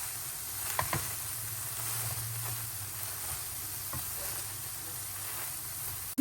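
Greens and carrot sizzle steadily in a frying pan as they are stirred together, a soft, continuous hiss with a few light scraping clicks and no talking.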